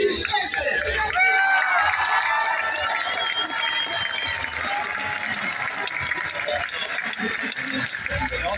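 Stadium crowd cheers and applauds a baseball legend's introduction at a Home Run Derby X event in Fredericksburg, a steady roar of clapping and hubbub with a loudspeaker voice on top.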